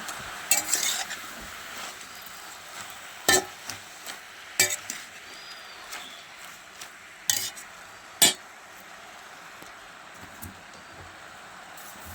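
Leafy greens being stirred in a cooking pan, a soft background sizzle broken by a handful of sharp utensil clinks and scrapes against the pan at irregular intervals, close but fairly quiet.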